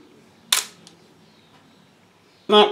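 A Canon SLR fitted with a Tamron Adaptall lens fires a 4 second exposure: a sharp click as the shutter opens, a long quiet pause, then a second loud clack as it closes.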